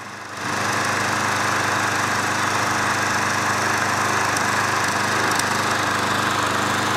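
Craftsman 20-inch mulcher push mower, a curbside find, starts up and settles into a steady, close, loud engine drone with a rapid buzzing pulse, running alone.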